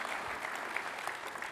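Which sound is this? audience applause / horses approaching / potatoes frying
audience applause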